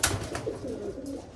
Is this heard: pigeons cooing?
yes